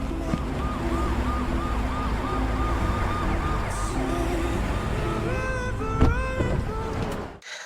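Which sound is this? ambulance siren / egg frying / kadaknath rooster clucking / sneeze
ambulance siren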